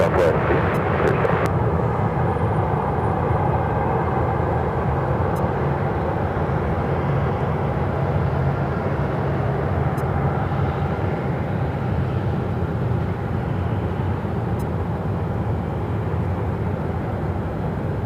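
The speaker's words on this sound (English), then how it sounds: "That's the next takeoff here on 7 left." An airliner taking off from runway 7 left at Phoenix airport, a loud, sustained broadband jet roar holding steady for the whole stretch, with a brief faint voice near the start.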